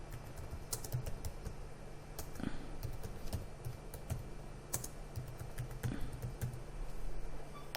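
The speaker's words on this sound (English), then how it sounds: "I'll press backspace and I'll write" Steady typing on a computer keyboard during word processing, rapid uneven key clicks with a few louder taps, close and clear with no talking.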